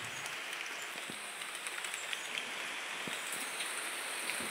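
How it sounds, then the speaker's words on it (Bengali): Heavy rain pours steadily on a village yard, a dense continuous hiss with scattered sharper drop impacts nearby and no voices. "খুব বৃষ্টি হচ্ছে, দেখো ভিজে গেছি পুরো।"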